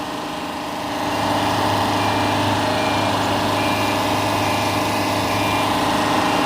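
A Komatsu PC40MR-2 mini excavator engine runs steadily while travelling in reverse, with a fault that keeps the right track slow and pressure below maximum; the drone rises slightly after a second, then holds a loud, even hum with no voices.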